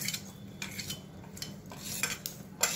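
Whole spices, including cinnamon, cloves, bay leaves and pepper, dry roasting in a pan with a little oil, stirred with a utensil that scrapes and clinks against the pan in short rhythmic strokes, close up, with no talking.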